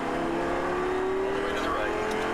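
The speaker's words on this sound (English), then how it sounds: "Now full throttle from here out." A car accelerating at full throttle on a track, its engine holding a steady drone with a rising tone throughout, while an instructor talks over it.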